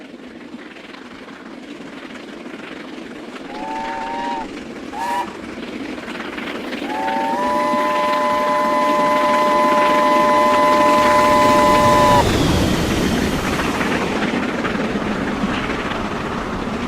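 A Britannia steam locomotive on a railtour passes at track speed, opening with short whistle blasts and then a long sustained whistle as the roar of the train swells loud and close before fading.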